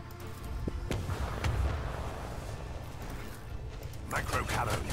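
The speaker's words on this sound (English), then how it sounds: "Unleash the storm of macro cannons." Macro cannons firing in Warhammer 40k Rogue Trader, with deep rumbling booms and mechanical clatter, a fresh volley near the end, partly under a voice speaking.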